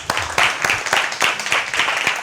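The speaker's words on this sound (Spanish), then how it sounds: "recibamos con un gran y caluroso aplauso a nuestro gran amigo Gustavo Rodríguez." An audience gives a warm round of applause for an arriving guest, dense clapping close and steady throughout, with some voices mixed faintly underneath.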